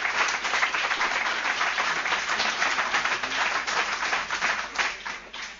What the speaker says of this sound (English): I would ask you to join with me, first of all, in giving the members of our panel a very warm round of applause